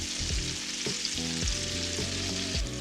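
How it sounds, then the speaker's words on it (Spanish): Onion frying in a hot pan with butter and olive oil over medium-low heat, a steady close sizzle and crackle with repeated scraping stir strokes, no voices present. "la llevamos a una sartén caliente con un poco de mantequilla y aceite de oliva"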